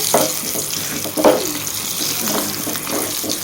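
Garlic, curry leaves and turmeric fry in a pan with a loud, steady sizzle heard up close, broken now and then by stirring scrapes.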